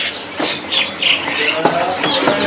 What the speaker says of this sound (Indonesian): Nah kalau yang ini stok dari burung kutilang jenisnya ya.